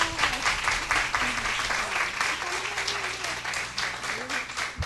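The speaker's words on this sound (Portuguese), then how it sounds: "Palmas!" An audience at a talk applauds steadily and continuously at moderate volume, with a low hum running underneath.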